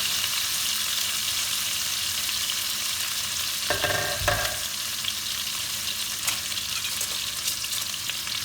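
Chicken pieces fry in a kadai with a steady, close sizzle and crackle throughout, broken near the middle by a brief clatter as the pieces are turned over.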